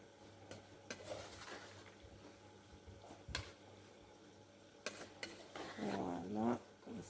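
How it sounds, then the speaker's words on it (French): Pieces of meat coated in flour and a spice mix are stirred in a bowl. The stirring is quiet, with a few faint clinks and scrapes and a brief rustling burst near the end. "bien mélanger le tout pour que chaque morceau de viande soit bien enrobé de farine"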